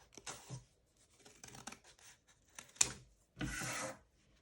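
Scissors cutting through a stack of paper scraps, giving several short crisp snips and rustles separated by quiet gaps, with a longer rasping cut near the end, close and fairly faint.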